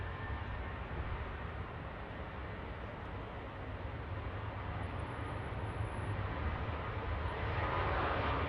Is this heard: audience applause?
no